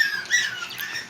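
A female cockatiel gives a shrill, harsh squawk with bright, chirpy overtones, close and fairly loud, sustained across the moment with small wavering pulses and no speech.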